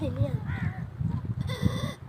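A boy imitates a young goat's bleat with his voice, giving short wavering cries in quick succession, close and fairly loud amid background voices.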